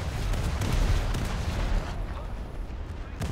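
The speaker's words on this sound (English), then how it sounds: "Put some ripple fire in here" Naval guns on the HMS Leopard (F14) frigate in War Thunder ripple-fire in a dense string of booming shots that blur into a continuous rumble, with a voice talking faintly underneath.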